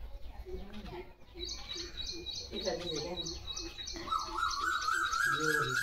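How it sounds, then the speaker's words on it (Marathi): Small birds chirp and tweet in repeated short, bright calls, fairly close, under a cloudy sky near a tree branch, with a faint voice murmuring in the background. "वाव, पक्ष्याचा आवाज."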